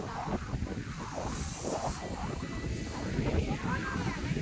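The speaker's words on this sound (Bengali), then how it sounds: "দারুণ লাগছে আমার এখানে হাওয়াটা" Wind blows outdoors on an outing in Malda, giving a constant, fairly faint rushing and buffeting noise across the microphone.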